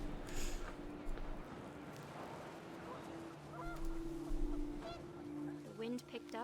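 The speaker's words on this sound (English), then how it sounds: "The wind picked up and panicked geese appeared and quickly went." Panicked geese honk in the wind-swept scene of What Remains of Edith Finch, a few short honks and calls rising over a steady windy, rumbling game ambience.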